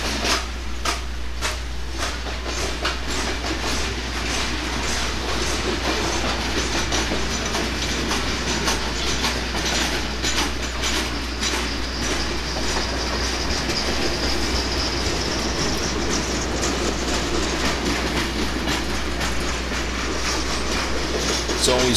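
A Conrail southbound train street-running through town in Warsaw, Indiana rolls past steadily over about twenty seconds, with continuous rumble, rhythmic clickety-clack of wheels over rail joints, a low engine hum and occasional faint wheel squeal.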